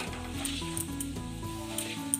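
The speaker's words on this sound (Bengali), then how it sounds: "শুকনো লঙ্কা ফাটিয়ে দিচ্ছি, কালো জিরে ফোড়ন দিলাম" Dry red chillies, chopped garlic and nigella seeds sizzle in hot oil as a tempering, with a soft, continuous hiss running beneath prominent steady musical tones.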